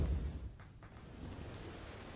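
Heavy rain pours over the town of Lakhani in Banaskantha as a faint, steady wash of noise with a low rumble in the first moments, and no voices.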